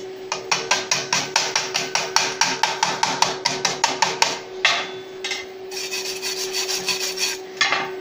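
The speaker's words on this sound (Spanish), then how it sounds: "Removemos escoria." Slag being chipped off a weld bead on 14-gauge square steel tubing, a rapid run of sharp metallic taps in a steady rhythm, then a pause and a few scattered scraping knocks, close and clear.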